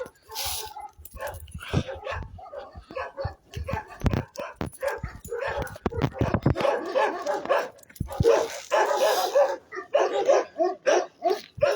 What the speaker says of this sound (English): Try to stay away from the dogs so we don't get in any fights.